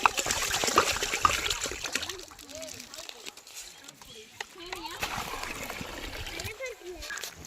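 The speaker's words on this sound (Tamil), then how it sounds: "நம்ம ரெண்டு தண்ணில் வாஷ் பண்ணிவிட்டு அரிசி ஊற போட்டுக்கலாம்" Rice being washed and stirred in water before soaking, with close splashing, sloshing and trickling throughout, while people talk in the background.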